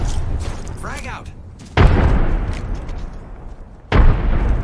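Two heavy frag grenade explosions in Apex Legends boom close by a couple of seconds apart, each a sudden burst with a rumbling tail, over constant gameplay noise with a voice talking.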